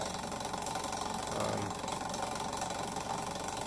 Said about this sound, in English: it's a cool little motor